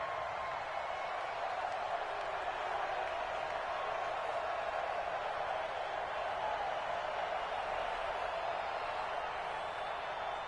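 A simulated stadium crowd in an American football video game on PS4 gives a steady, moderately loud roar of cheering that holds evenly throughout without pauses.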